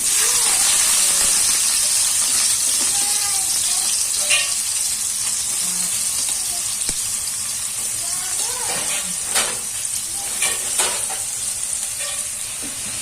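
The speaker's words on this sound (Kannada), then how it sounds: "ಈರುಳ್ಳಿ ತಗೊಂತ ಸೇರಿಸ್ಕೊಂಡು ಚೆನ್ನಾಗಿ ಹುಡ್ಕೊಳ್ಳೋಣ" Chopped onions and raw mango sizzle and hiss loudly in a hot pan on a high flame for a mango pickle, with occasional stirring scrapes and clinks as the mixture is tossed.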